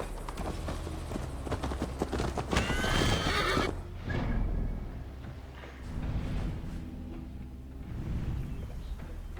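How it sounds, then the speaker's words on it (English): Horse hooves clip-clopping during a mounted ride in the Assassin's Creed Valhalla video game, with whinnies and neighs breaking through, plus a rushing burst of game effects near the start; the horse sounds continue steadily throughout. "Mount up, Eivor. It's a long ride to Tamworth."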